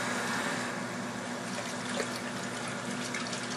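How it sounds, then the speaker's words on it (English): Tap water runs steadily from a faucet into a kitchen sink as hands are washed, a continuous close splashing hiss with no talk over it. "Wash my hands here."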